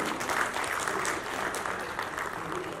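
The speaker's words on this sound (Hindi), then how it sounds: "उन सब के लिए जोरदार तालियां बनती हैं" Continuous crowd applause at a Republican Party political speech, a dense wash of clapping from a large audience holding steady at moderate loudness for a few seconds.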